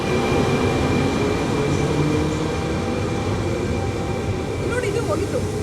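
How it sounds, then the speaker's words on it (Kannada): A train rumbles past in Italy with steady, loud broadband noise throughout, a continuous low roar from start to finish. "ಟ್ರೈನ್ ಇಲ್ಲಿ ಈಗ ಹೋಯ್ತೈತೆ"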